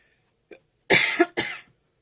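Two or three sharp, close coughs in quick succession after a faint short throat sound, then silence.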